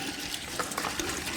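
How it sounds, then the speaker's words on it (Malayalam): Six litres of milk is poured into a pot to be boiled for tea, giving a quiet, steady liquid splash that sounds close and plays alone. "നമുക്ക് പാൽ ഒഴിക്കാം"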